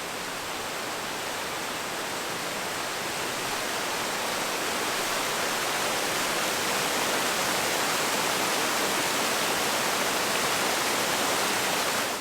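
The San Miguel River rushes steadily near Telluride, a loud, continuous broadband roar of flowing water that swells slightly over time with no other sounds.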